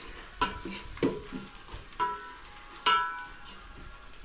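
Spices temper in hot oil for phodni in a home kitchen, a quiet, steady sizzle broken by periodic clacks and scrapes of stirring, with no one talking.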